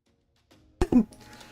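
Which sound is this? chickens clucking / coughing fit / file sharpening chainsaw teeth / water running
coughing fit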